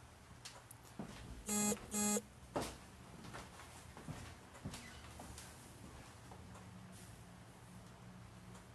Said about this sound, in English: we are now having intermittent beeps